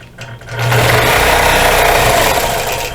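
A sewing machine stitches a Hawaiian quilt, running in a steady continuous hum with a fast mechanical rhythm that starts after a brief pause and holds loud and close for the rest.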